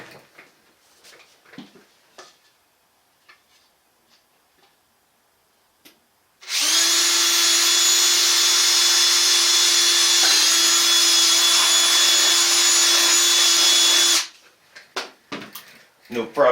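Bosch power drill whines steadily for about eight seconds as it drives into an RC car chassis behind the shock post, loud and close, with quiet bench clatter before and after.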